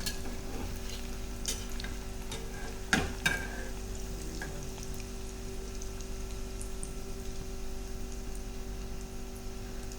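Gulab jamun balls frying slowly in oil over a low gas flame, a faint steady sizzle with soft bubbling and a few sharp clinks of a utensil against the pan, with no voices.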